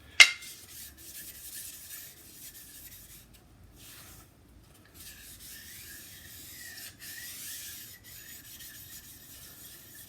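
A worn sharpening stone is resurfaced by rubbing, giving a soft, continuous gritty scraping after one sharp initial knock, faint and steady with brief pauses.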